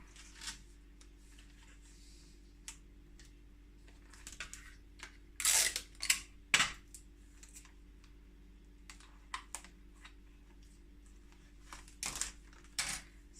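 Adhesive tape being stretched and pressed onto the plastic wrap of a manga book: quiet ticks and rustles with a few sharp louder pulls in the middle and near the end, close up, with no talking.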